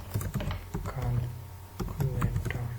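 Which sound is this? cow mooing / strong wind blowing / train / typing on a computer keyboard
typing on a computer keyboard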